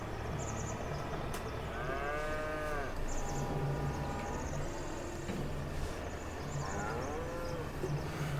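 Cattle mooing inside a cow barn in Farming Simulator 22, several long lowing calls at moderate distance over a steady background hum of farm machinery, no talking.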